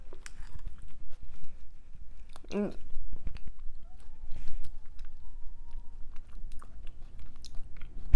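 Someone chews crunchy breakfast muesli cereal with chia seeds, cornflakes and coconut milk, close up with irregular crunching bites and soft mouth sounds, with brief talk partway through.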